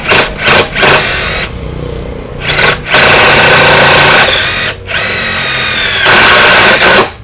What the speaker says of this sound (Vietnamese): Mình bắn chế độ nó sử dụng búa tự động, cho nên là khi mà nó cần lực thì nó sẽ gõ.